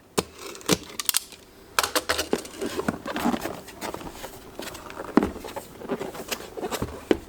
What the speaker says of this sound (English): let's unbox this thing to see what's inside